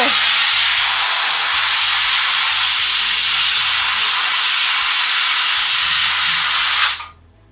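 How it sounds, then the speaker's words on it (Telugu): A high-pressure steam machine cleaning gold jewellery in a jeweller's shop gives off a loud, steady roaring hiss of vapour over a low mechanical throb, cutting off abruptly near the end. "ఈ స్టీమ్ మిషన్ హై ప్రెషర్, ఆ ప్రెషర్ చూసారు ఎంత ఆవిరి అనమాట."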